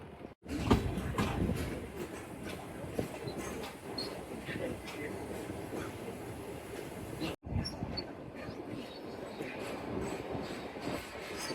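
The Tezgam Express rolls out of Pattoki station on the Multan to Lahore route, heard from on board as a continuous rumble with rhythmic wheel clatter and faint squeals, with a brief dropout partway through.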